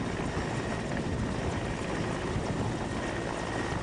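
A helicopter flies a snow rescue operation in Himachal Pradesh, its steady, loud rotor and engine roar filling the scene without a break and with no voices over it.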